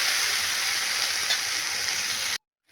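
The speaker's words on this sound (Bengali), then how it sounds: "ভালো করে ভাজতে হবে আলুটাকে" Potatoes fry in a pan for a Bengali mixed vegetable curry with yardlong beans, pointed gourd, eggplant and lentil dumplings, giving a steady loud hiss of sizzling oil that cuts off abruptly near the end.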